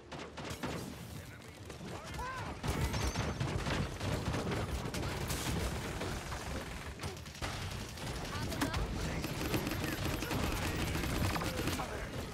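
Rapid bursts of weapon fire from the online shooter game Paladins fill the scene almost continuously. The dense crackle stays close and loud, with a voice speaking over it.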